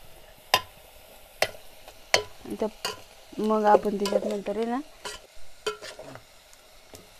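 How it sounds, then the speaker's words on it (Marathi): Cumin seeds sizzle in hot oil for a tempering, with a soft background hiss under sharp spoon clicks against the pan. A voice speaks briefly partway through. "तर आपली जिरा टाकून फोडणी मस्त झाले।"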